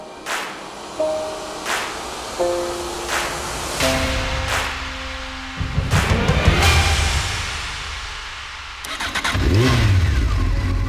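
The engine of the Texas Seaguar, a record-setting land speed car with a British Triumph engine, starts with sharp cranking bursts, then revs in rising and falling surges, loud and close, with no talking.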